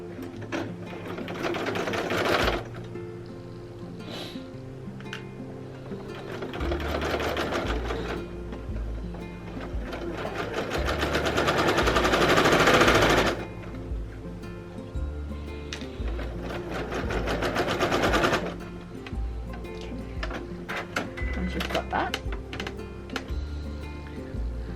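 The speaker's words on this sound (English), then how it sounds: "now we are ready to go and sew it" A sewing machine stitches a border onto a jelly roll quilt, running steadily in long bursts with brief pauses between them, close and clear with no talking.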